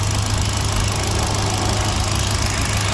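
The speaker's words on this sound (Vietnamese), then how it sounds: "ở đây là phần tổng quan động cơ của chiếc Kia Morning sản xuất 2016 phiên bản tiêu chuẩn" Kia Morning 2016 with a 1.25-litre engine and manual gearbox idling, a steady, continuous low hum that stays close and even throughout with no talk.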